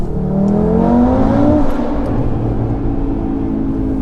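A 740bhp Audi RS3 on a stock engine accelerates hard, its loud, continuous engine note climbing steadily in pitch before holding a strong, steady roar.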